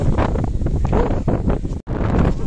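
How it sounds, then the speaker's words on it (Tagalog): Strong mountain wind on Mt. Mariglem in Cabangan, Zambales, buffets the microphone with loud, continuous roaring gusts and a brief dropout near the end. "Grabe lumakas yung hangin."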